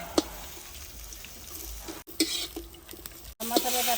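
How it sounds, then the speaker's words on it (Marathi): Onion roasting in a pan for a Maharashtrian village-style masvadi, giving a steady low sizzle with occasional stirring scrapes, brief clinks and a louder burst near the end. "हा कांदा आहे ना आता आपण अशासाठी बनवत आहे भाजून घेत आहे"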